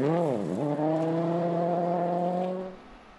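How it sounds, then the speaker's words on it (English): A rally car on a stage of Rally Italy passes with a sharp engine note that bends down as it goes by, then holds a steady high drone before fading out; no talk. "That's Petter passing the rolled car of Thierry Neuville that also held him up in the morning."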